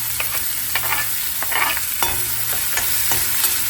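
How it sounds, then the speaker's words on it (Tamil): Chopped onions and curry leaves sautéing in a pan, a loud close sizzle punctuated by repeated clicks and scrapes of a spatula stirring at an uneven pace, no talking. "அப்படியே வந்து கட் பண்ண வெங்காயம் எல்லாம் போய் சேர்த்துருவோம். வெங்காயம் வந்து நல்லா வந்து வதங்கணும்."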